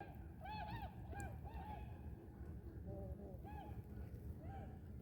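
Geese honk repeatedly on the St. Croix River, several calls spread across the span at moderate distance over steady water and wind noise, with a voice talking underneath.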